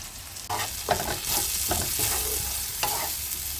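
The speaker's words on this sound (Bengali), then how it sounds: "বেশ ভালোভাবে মশলার সাথে মিশিয়ে নিতে হবে" Cauliflower fries in a pan with salt, turmeric, cumin, coriander, black pepper and Kashmiri red chili powder, with no onion or garlic. Repeated scraping strokes of stirring sound over a steady close sizzle.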